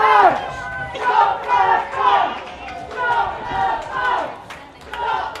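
A marching crowd of protesters in Braintree and Wethersfield surges past, voices rising and falling in rhythmic waves of chanting and shouting, loud and close, with general chatter mixed in.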